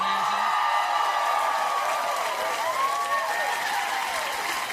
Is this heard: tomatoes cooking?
no